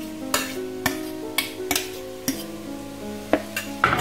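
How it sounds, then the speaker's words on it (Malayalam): Mashed potato stirred into fried onion in a pan for masala dosa filling, a series of sharp spoon knocks against the pan at an uneven pace over a light sizzle. "ഇനി നമുക്ക് ഇതിലേക്ക് നമ്മൾ ഉടച്ച് വെച്ചിരിക്കുന്ന പൊട്ടറ്റോ ഇട്ട് കൊടുക്കാം."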